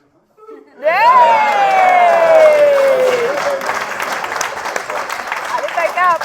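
A live audience of football fans cheers loudly for Everton, the boys in blue, with a long sliding whoop over the dense, sustained crowd noise.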